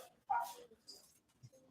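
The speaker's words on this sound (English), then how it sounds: "started barking and did not want to stop" A boxer dog gives a single short, sharp bark followed by a few fainter yips and whimpers, close and quiet, in an otherwise still room.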